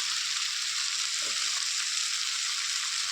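Tomatoes frying with garam masala and spices in a pan give off a steady, even sizzle of hiss and crackle that carries on unbroken throughout, fairly close, with no talking.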